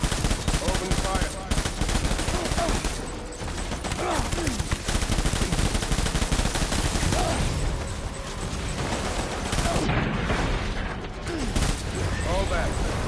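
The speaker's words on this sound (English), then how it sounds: "Open fire." Sustained rapid machine gun fire with overlapping bursts in a Death Stranding firefight, loud and dense throughout, with voices speaking underneath the shooting.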